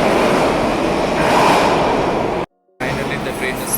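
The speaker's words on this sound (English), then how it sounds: "Finally the train is here." A SEPTA commuter train arrives at a station with a loud, close rumble and rolling rail noise, broken by a brief cut and then continuing with squeals and clatter.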